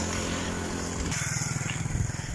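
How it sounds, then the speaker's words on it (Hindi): A motorcycle is started after its choke is pulled, its engine catching and settling into a pulsing, throbbing idle close by, with outdoor background noise and no talking. "शर्जा भाई जान भाई ने चौक उठा के बाइक स्टार्ट कर दी है"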